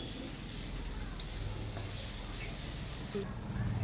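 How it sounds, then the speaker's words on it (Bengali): Spice paste of ginger, cumin, dried chilli and garlic sautéed in a pan for an egg curry, a steady close sizzle with soft scraping stirs throughout, a brief clink near the end. "তারপরে মশলাটা ভালো করে কষিয়ে নিচ্ছি।"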